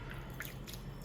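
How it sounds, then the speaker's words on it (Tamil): Water trickles in small drips and splashes into dough being kneaded by hand for khajur, soft and close over a low background hum. "தண்ணி ரொம்ப பார்த்து ஜாகிரதையாக ஊற்றணும்"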